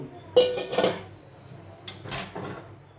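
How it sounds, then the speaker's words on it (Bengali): Boiled pasta tipped from the pot into a basket to drain its water: two bursts of sloshing, splashing water with metallic clinks against the cookware, the second shorter and brighter. "নামিয়ে একটা ঝুড়িতে খালি করবে জলটা ঝরাবার জন্য"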